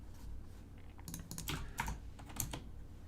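Fingers typing a command on a computer keyboard, a quick irregular run of crisp, close key clicks over a low background hum.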